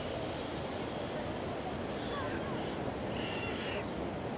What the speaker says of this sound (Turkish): Arkadaşlar şu an şelalenin aktığı noktaya kadar geldik.